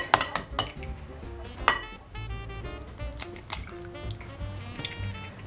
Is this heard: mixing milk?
yes